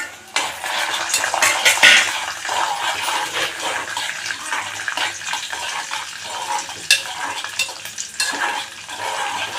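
Cashews and raisins fry in ghee in a pan while sweet pongal is made, a steady close crackle with light clinks and stirring throughout, no talk.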